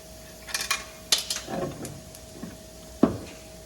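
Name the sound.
wrench removing strut top nut on a Mustang GT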